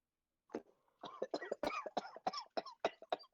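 A long fit of repeated coughs, about a dozen sharp hacking bursts in quick succession, close and loud.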